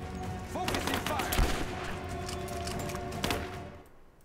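Gunfire from the video game Rise of the Tomb Raider: a dense burst of repeated shots and impacts, loud and close, over a steady game soundtrack.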